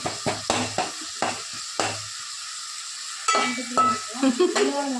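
Ginger pieces fry for a fish curry, heard as intermittent bursts of stirring and clattering against the pan with brief quiet gaps between them, close and moderately loud.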